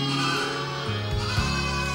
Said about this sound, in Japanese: 羊たちの声だ。